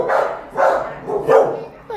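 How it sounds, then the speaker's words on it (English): A dog barks three times in a steady rhythm, each bark close and fairly loud with a short gap between, and nothing else stands out. "You're such a great looking dog."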